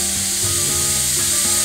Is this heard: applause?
no